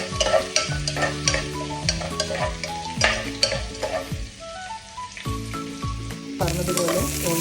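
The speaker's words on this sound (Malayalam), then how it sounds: "നമുക്ക് ഗാർലിക്കും കൂടെ ആഡ് ചെയ്ത് 2 പേരെയും നന്നായിട്ടൊന്ന് ബ്രൗൺ കളർ ആകുന്നത് വരെ ഒന്ന് വഴറ്റി വെക്കാം" Onion and garlic sauté in a pan for a spicy chicken curry, with steady frying sizzle and repeated stirring scrapes running throughout, close and moderately loud beneath continuous background music.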